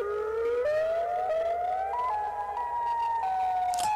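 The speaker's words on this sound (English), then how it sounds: "Chicago siren and the scary tornado siren." A tornado warning siren sounds continuously for four seconds, its wail rising and falling in a steady alternating pitch, loud and close, with no voices over it.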